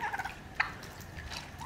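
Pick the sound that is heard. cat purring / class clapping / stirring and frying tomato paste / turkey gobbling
turkey gobbling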